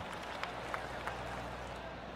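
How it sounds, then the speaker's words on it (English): In the golf video game PGA Tour 2K23, a crowd gives a soft golf clap: a faint, polite patter of scattered hand claps with a few slightly sharper claps, brief and distant. "Oh, golf clap."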